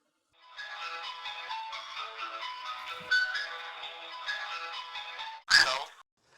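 A phone rings out over a speakerphone call in repeated electronic ringback tones, clear and steady for several seconds before a voice answers at the end.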